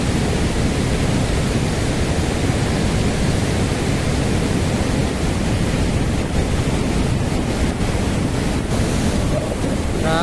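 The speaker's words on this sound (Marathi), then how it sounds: "उंचावर पाणी पडतं आता बघा" Water plunging from a height at the brimming Khorninko dam near Lanja, Ratnagiri, producing a constant heavy roar with wind buffeting the microphone, loud and continuous for the whole stretch.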